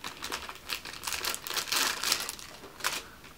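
Plastic packaging of a gel eye mask is crinkled and torn open by hand, a close series of uneven rustling and crackling bursts with brief pauses.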